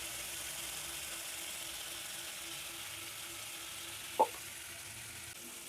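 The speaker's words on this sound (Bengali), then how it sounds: "লাল লাল করে চিংড়ি মাছটা ভেজে নেব" Prawns frying in a pan until they turn red make a faint, even sizzle that holds steady throughout, with one sharp click of a utensil near the end.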